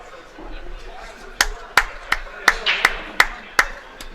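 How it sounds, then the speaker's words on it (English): Spectators at a Hard Times 9-ball pool match clap for a player: a sparse handful of distinct, sharp claps at an uneven pace over a quiet room hum, with faint murmuring beforehand. "Clapping for Omar."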